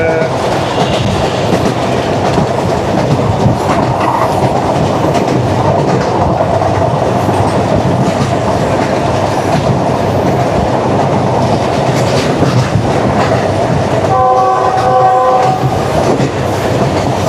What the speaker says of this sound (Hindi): GU24565 अपनी एक प्रॉपर लीड पे, बड़ी ज़बरदस्त स्पीड पे और लवली ट्रैक साउंड एंजॉय कर रहा है बंदा